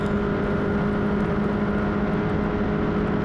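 A Formula Regional Americas race car at Canadian Tire Motorsport Park, on a light breath of throttle as it bends into turn 8, gives a steady, droning engine note that holds level and unbroken throughout.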